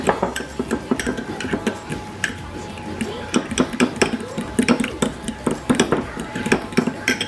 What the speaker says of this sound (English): Now I'm going to mix my butter, my broth, herbs,